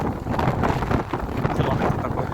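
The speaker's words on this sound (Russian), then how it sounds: "У нас ураганный ветер." Hurricane-force wind of around 40 to 50 km/h on a November walk, roaring and buffeting the microphone with constant, loud low rumble and gusty swells throughout, no voices.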